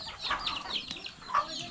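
A chicken clucks in a few short, close bursts, with some faint higher calls mixed in. The bird is in a Philippine household yard.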